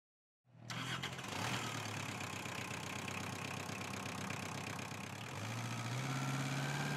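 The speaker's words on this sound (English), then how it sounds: "The tractor is bringing them over." A farm tractor's engine runs steadily after starting abruptly, a loud continuous mid-pitched rumble with a shift in tone near the end as it approaches, with no voices.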